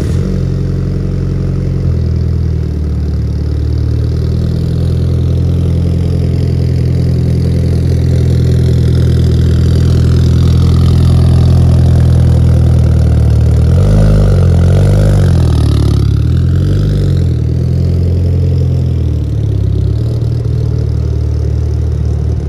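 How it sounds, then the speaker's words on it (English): Car engines run steadily while the cars are moved, a loud close idle with low rumble and a couple of revs and shifts midway, no voices. "first we gotta move the cars"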